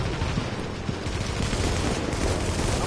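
Rapid, dense gunfire in the video game The Division: a continuous close barrage of overlapping shots and automatic bursts, loud throughout, with no voices.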